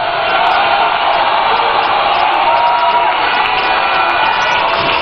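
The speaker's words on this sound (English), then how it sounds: "Round of applause for him." A large crowd at a political party manifesto launch rally cheers and claps loudly, a dense continuous roar of shouting and whooping.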